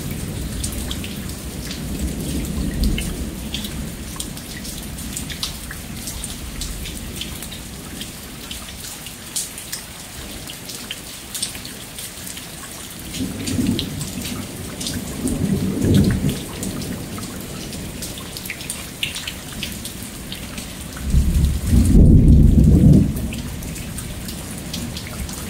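Thunderstorm in Lufkin, Texas, steady rain pattering and dripping throughout, with several low rumbles of thunder rolling in, the loudest and nearest toward the end.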